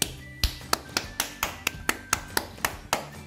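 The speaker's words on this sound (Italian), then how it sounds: "Prova a battere le mani." Hands clapping near a light-up toy, about a dozen sharp, close claps in a steady rhythm, with a faint electronic tone in the background.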